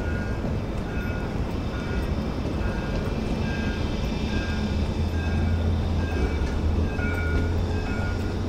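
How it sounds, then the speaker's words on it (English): Tram passing on a Stockholm street, a steady rolling rumble with a low hum and faint metallic tones, moderately close and continuous throughout, with no talk. "there's a tram coming"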